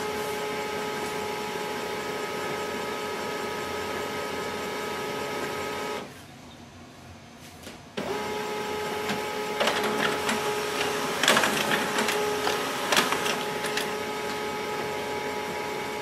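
An HP LaserJet Pro MFP-3101fdw laser printer hums and whirs steadily as pages feed through, briefly pausing before resuming with clattering mechanical rolls and clicks.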